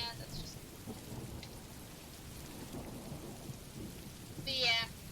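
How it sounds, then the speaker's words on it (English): Steady, fairly faint rain with soft low rumbles of thunder runs throughout, a gentle continuous wash with a brief brighter burst near the end. "it's 5 hours of royalty-free rain sounds"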